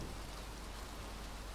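Steady rain pours in the video game Little Nightmares 2, a dense, even hiss of drops on surfaces that continues alone without any voices.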